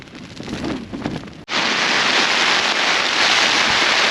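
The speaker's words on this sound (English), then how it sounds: "Heavy rain, they said." Heavy rain lashing down on a Helm Compact 1 tent during a stormy wild camp in the Peak District: a softer patter first, then a sudden loud, dense, steady roar of rain drumming on the fabric close by.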